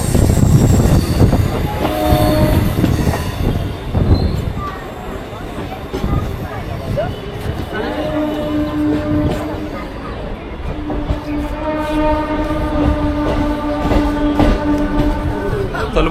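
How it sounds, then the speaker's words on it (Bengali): An old-generation WDG-4D EMD diesel goods locomotive rumbles past a station near Howrah, loud and close, with rolling wagon clatter, wheel squeal, and a sustained horn blast in the second half, while people talk nearby. "Diesel EMD goods locomotive."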